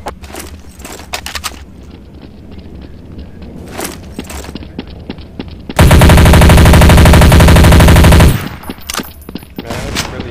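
Sustained burst of MP5 submachine-gun fire in Counter-Strike: Source, loud and continuous for a couple of seconds, framed by scattered shots, footsteps and in-game clatter before and after.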